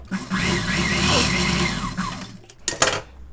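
A sewing machine runs steadily, sewing an edge seam on a blouse with a lining, then stops; a few quick clicks and rustles of handling the fabric follow.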